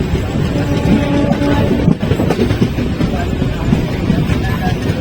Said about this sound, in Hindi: तो ये है अपनी नैनी दून जन शताब्दी, देहरादून से लेकर काठगोदाम के बीच में चलने वाली।